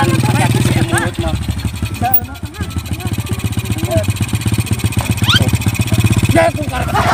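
An old, worn-out motorbike engine chugs in a rapid, uneven idle close by, loud and continuous, while people talk over it.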